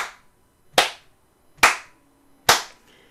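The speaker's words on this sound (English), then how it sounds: "I want you to echo the pattern back to me and then clap it with me." Hands clap a simple rhythm pattern in a music class: three crisp, loud claps, evenly spaced with clear silence between each.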